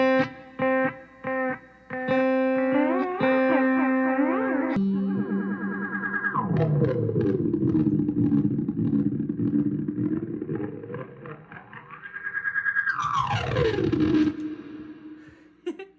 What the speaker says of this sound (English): that's another thing I like to do with echoes and delays is kind of just ramp the feedback and time up and down just to make cool sound effects